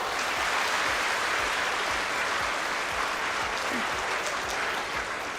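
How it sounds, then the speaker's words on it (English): Students clapping at an orientation day: a large group applauding steadily and evenly, a dense wash of claps at constant loudness for several seconds, ending with a sudden loud burst. "First the students will clap."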